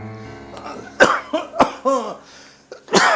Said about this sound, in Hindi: थोड़ी खांसी आ रही